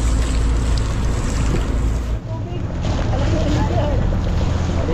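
Strong monsoon wind roars steadily across the open Pacific ahead of a typhoon, with waves and the churn of a boat beneath, loud and continuous.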